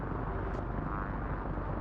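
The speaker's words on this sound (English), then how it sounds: "Is that an attack chopper right above us?" An attack helicopter in the video game DayZ thunders overhead as a loud, dense rotor rumble that fills the whole moment without pause.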